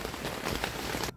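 Rain pattering on a tent during a bicycle tour, a dense, steady hiss of drops close overhead that cuts off abruptly near the end.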